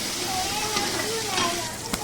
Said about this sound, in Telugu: పోపులోకి కొంచెం చిటికడన్ని జీలకర్ర, చిటికడంతా ఆవాలు వేసుకొని పోపు పెట్టేసుకున్నాను.